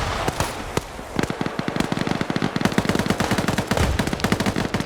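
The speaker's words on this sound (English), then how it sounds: "Thermite grenades going off." Thermite grenades going off during a squad-versus-squad fight in a military shooter video game, a dense, fast crackle of sharp popping bursts that keeps going without a break at steady, fairly loud volume.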